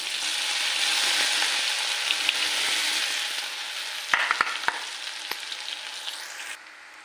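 Cumin seeds sizzle in hot oil in a pan as a tempering for a Marathi dish, a strong close hiss that fades over several seconds, with a few sharp clanks of stirring near the end.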